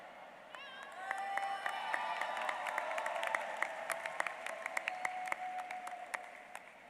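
A graduation commencement crowd applauds and cheers, dense clapping mixed with high whoops and shouts that swell and hold, moderately loud and fairly distant in a large venue.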